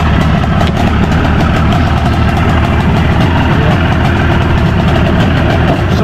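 Boat engine idling at sea during a fishing trip, a steady loud low rumble running continuously throughout without pause.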